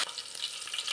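Green chillies sizzle in hot oil in a pan or kadai while cooking chicken, a faint, steady hiss of frying with no talking over it.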